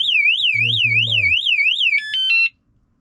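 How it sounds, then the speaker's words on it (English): A Mongoose Argus Sport fat bike's seat-post alarm, triggered by its remote, sounds loud and close as a warbling electronic siren, then switches to rapid stuttering beeps before cutting off abruptly; a brief low voice speaks underneath early on. "There's your alarm."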